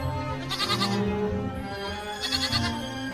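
A lamb bleats twice, short quavering cries close and fairly loud, alone.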